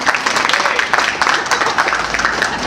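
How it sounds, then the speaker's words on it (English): An audience on a historical walking tour claps for a recent graduate, a brief, even burst of dense outdoor applause at moderate distance with no voices over it. "let's give her a big round of applause"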